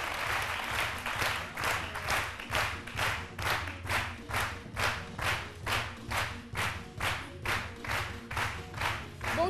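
A studio audience on a Cameroonian national TV midday show claps to welcome an arriving presenter, settling into a loud, rhythmic unison clap with clear regular beats repeating throughout.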